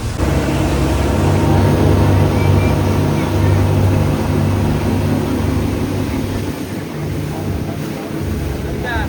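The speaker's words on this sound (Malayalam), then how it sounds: "ഇതാണ് ബോട്ട്. ഇതിലൂടെ കയറിയിട്ടാണ് നമ്മൾ പോകേണ്ടത്." A boat at Coral Island, Pattaya, Thailand: a loud, steady engine drone and rushing water fill the air, with wind buffeting the microphone throughout.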